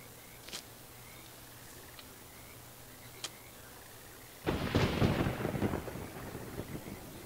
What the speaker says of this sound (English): we got lightning storm